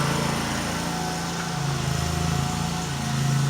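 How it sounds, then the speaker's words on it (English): A leaf blower running outdoors, a steady droning engine hum with a slight rise toward the end, continuous and fairly close with no talking. "Leaf blower."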